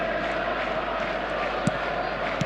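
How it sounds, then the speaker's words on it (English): Stadium crowd roaring in an eFootball video game match, a dense continuous wash of cheering with a couple of brief sharp knocks near the end. "the crowd are reacting to that now"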